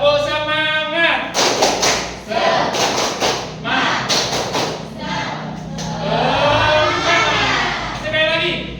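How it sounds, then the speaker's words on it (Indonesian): A school class claps in rhythm for a 'tepuk semangat' chant, with bursts of clapping mixed with voices chanting together and a teacher speaking, fairly loud and close in a room. "Tepuk semangat yuk, kita mulai."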